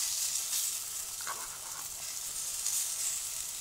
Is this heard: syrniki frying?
yes